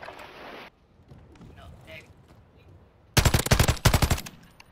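Call of Duty multiplayer gunfire crackles in two loud, tight bursts of rapid automatic shots near the end, following quieter muffled game ambience and faint distant action.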